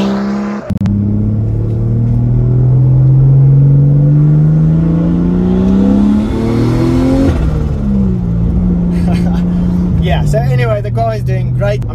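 A Mercedes W203 fitted with a turbocharged M104 engine drives off, its close, loud engine drone climbing steadily in pitch under acceleration, dropping at a gear change, then pulling again while a voice talks over it.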